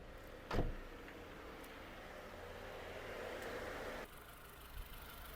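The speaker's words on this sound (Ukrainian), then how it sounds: "Робота двигуна, двигун працює чітко" A Renault Kangoo passenger van's engine idles steadily at low volume, a soft continuous hum with a brief thump near the start and a slight shift in tone about two thirds through.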